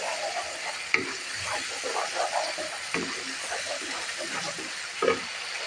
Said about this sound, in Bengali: এখন আমি শুক্তিটা ঢেলে দিচ্ছি